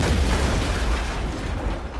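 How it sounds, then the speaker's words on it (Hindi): A grenade explosion sound effect: a loud, dense, rumbling boom that fills the whole moment with heavy low-end roar, heard alone without any voices. "ग्रेनेड फट गया।"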